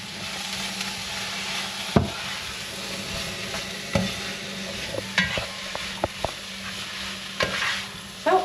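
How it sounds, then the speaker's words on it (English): Red cabbage frying and being stirred in a pan, a steady low sizzle with occasional sharp clicks and scrapes of a utensil against the pan, close and fairly quiet, no voices. "So now I will fry this for a few more moments"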